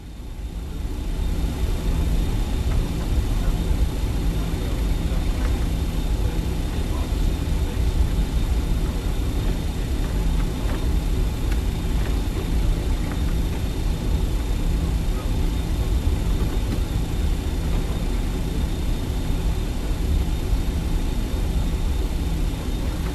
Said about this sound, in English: So I ran the numbers for takeoff and it does not have us flexing, so we are doing a toga takeoff.